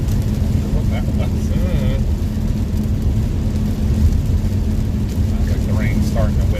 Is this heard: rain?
yes